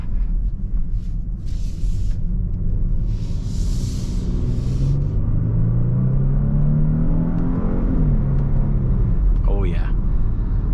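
A 2023 Genesis G80 3.5T with rear steering is driven, its engine and transmission a steady low rumble under the cabin as it accelerates smoothly through shifts, with someone talking over it.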